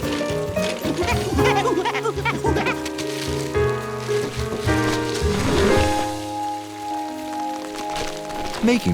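Cartoon rainstorm, a steady patter of rain on surfaces under bright musical accompaniment throughout.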